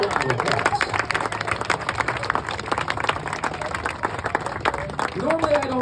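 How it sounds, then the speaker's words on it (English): A crowd claps and cheers continuously, with talking and shouts mixed in throughout. "So give yourself a round of applause."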